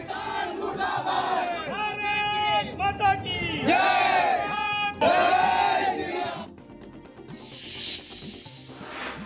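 A crowd celebrating in India, waving the tricolour, chants and shouts loudly in unison with rising and falling voices, then the chanting drops away, leaving a quieter hissing wash of noise.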